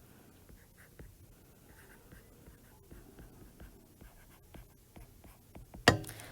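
A pen scratches across paper while a simple-interest formula is written out by hand, with quiet, irregular strokes and small taps, and a louder scrape near the end.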